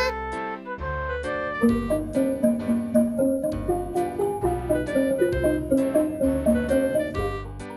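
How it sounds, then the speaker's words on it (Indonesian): Bright wooden bar percussion from a Balinese gambang plays a lively melodic pattern over steady low drum strokes, a dense gamelan ensemble texture without voices. "Ini namanya gambang gamelan. Alat musik ini berasal dari Bali. Seperti ini bunyinya."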